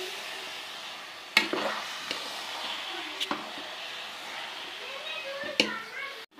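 Khoya is stirred into carrot halwa in a pan, with scraping and a few sharp knocks of the spoon heard under continuous conversational talk.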